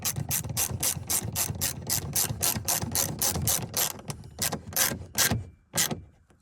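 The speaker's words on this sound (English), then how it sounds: "So reverse the ratchet" A hand ratchet clicks rapidly and evenly while tightening the door pull-strap bolt on a Buick Reatta, close and crisp, then slows to a few spaced clicks as the bolt snugs up.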